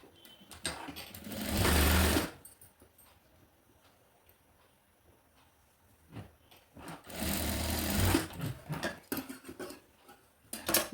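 A sewing machine stitches a baby girl's school uniform in two loud bursts of a couple of seconds each, separated by quiet stretches with soft handling clicks and fabric movement.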